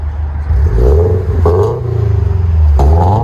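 A Toyota GT86 with a straight-piped 2.0L engine revs loudly through a raspy exhaust in several sharp blips that rise and fall close by, with no talking.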